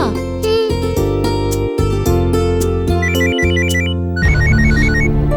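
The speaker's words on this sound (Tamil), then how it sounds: "ஃபோன் வருதே" A telephone ringtone plays loudly as a repeating melodic electronic jingle of bright tonal notes, steady for several seconds with no talking over it.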